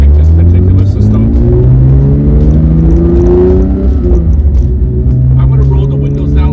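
Porsche 992 GT3 fitted with Kline headers exhaust revving loudly up through the gears, a deep continuous engine drone with rising pitch, heard close from inside the car.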